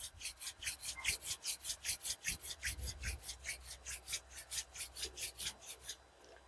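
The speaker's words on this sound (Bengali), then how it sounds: "ধীরে ধীরে হাতের তালুটাকে ঘষে ঘষে গরম করো" Palms rub briskly together to warm them, roughly twenty quick, even swishing strokes in a steady rhythm, close and fairly soft with no talking.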